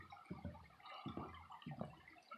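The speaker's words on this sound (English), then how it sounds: "Beautiful little babbling brook here." A small babbling brook at a wayside park trickles and gurgles steadily, faint and soft, with no voices.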